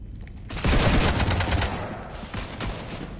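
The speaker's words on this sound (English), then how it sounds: "You want to stop shooting up my ship?" Rapid gunfire in Mass Effect 3 as a ship is shot up, loud dense bursts of shots with a heavy stretch early on, then thinner scattered volleys trailing off.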